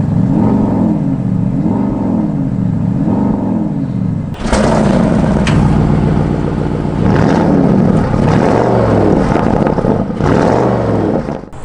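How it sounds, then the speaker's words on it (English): A 2020 Porsche Cayenne Turbo S E-Hybrid engine fires up in sport mode, a low idle rumble giving way to a loud, sudden burst of revving and settling into a strong, throbbing run with further surges of throttle. "Sport mode immediately turns on the engine."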